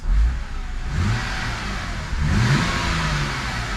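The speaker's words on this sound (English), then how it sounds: "is an N52 supposed to idle at like 550 RPMs? I feel like it's hardly running. That is very smooth." A BMW E92 325i with the N52 inline-six idles very low, near 550 RPM, giving a smooth, steady mid-pitched engine hum with a slight swell partway through, heard close and without speech.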